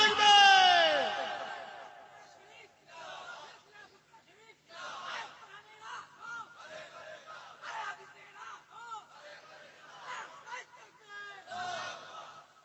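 A large crowd at an outdoor Bengali Islamic sermon gathering roars back in unison, loud and close, then keeps up a rolling hubbub of voices and shouts under a preacher's talk.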